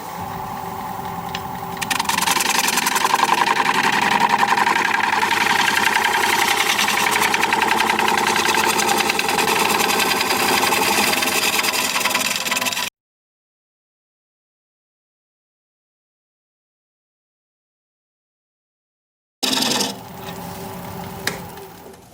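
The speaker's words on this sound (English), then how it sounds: "But I am going to sharpen up my smaller gouge." A small wood-turning gouge is ground on a sharpening wheel, giving a steady close whirring, rasping hiss for about eleven seconds, then a cut to silence before the grinding briefly resumes.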